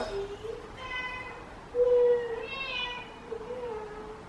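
An old cat meows in a kitchen, several drawn-out, wavering cries in a row, close by and moderately loud against a quiet room, with one louder call in the middle.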